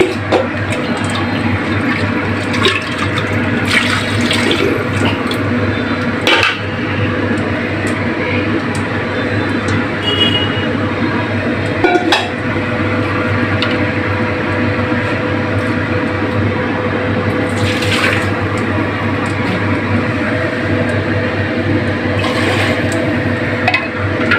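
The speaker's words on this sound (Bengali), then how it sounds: "গরম পানি যোগ করবো এটার সাথে।" Hot water poured into pressure-cooker beef nalli khichuri, a loud continuous rush and gurgle of liquid lasting over twenty seconds with no pause or talk.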